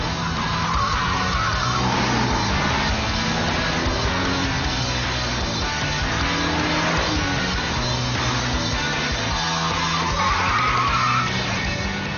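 A Porsche 911 Turbo is driven hard, its engine droning loudly and continuously with shifting pitch, and tyres squealing and skidding across the run.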